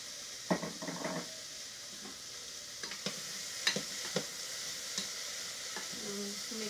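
A spoon stirs broccoli in a soup pot, giving quiet scrapes and sharp clinks against the metal at irregular moments over a faint low sizzle.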